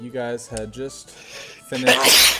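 A single loud, explosive sneeze bursts out near the end, following a stretch of close conversational talk at a tabletop Dungeons & Dragons session.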